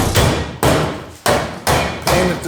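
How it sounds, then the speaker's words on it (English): Hammer striking metal inside a Camaro engine bay, four heavy, evenly spaced ringing blows about half a second apart, loud and close with each hit decaying before the next. "then cut this off and is whacking it with a hammer"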